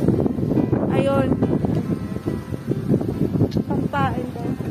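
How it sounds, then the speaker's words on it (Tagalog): Cold wind blows steadily outdoors in New Zealand, a constant rushing noise under a person talking throughout. "Sobrang lamig ng hangin dito, guys."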